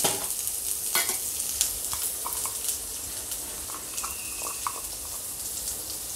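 Medium-sized onions roasting in hot oil in a pan for an Afghani egg curry, with a faint, steady sizzle and light, scattered clicks of stirring.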